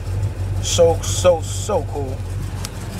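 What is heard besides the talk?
car engine with ceramic coated headers running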